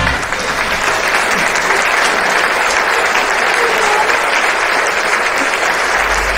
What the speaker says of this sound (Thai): ปรบมือเลยครับ ปรบมือเลยครับปรบมือด้วยครับ